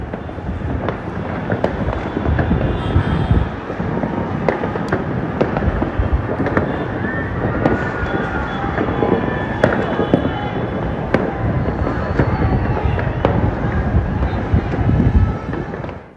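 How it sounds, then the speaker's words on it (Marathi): Firecrackers crackle and burst continuously in a dense, loud barrage as RCB fans in Bengaluru celebrate the IPL 2025 title, sharp pops layered over a roar of crowd noise throughout. "RCBच्या फॅन्सनी फटाके फोडून अक्षरशः दिवाळी साजरी केली."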